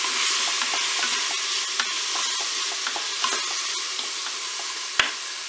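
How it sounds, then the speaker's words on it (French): Pork steaks dusted with paprika are stirred in a Cookeo multicooker, a steady close sizzle with soft scraping strokes and occasional light clicks of the utensil against the pot. "Je mélange."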